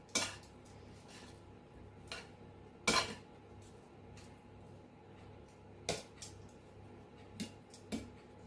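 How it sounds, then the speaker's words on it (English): Vegetables being tossed with garlic butter, utensils clinking and scraping against a pot or bowl in a home kitchen, with scattered sharp knocks over a quiet background and no talk. "Mix it all up, everything gets a bit of garlic butter on them"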